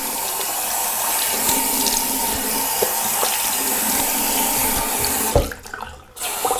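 Running tap water rinses shaving soap off, a steady close rushing stream that cuts off near the end, leaving a few brief handling splashes.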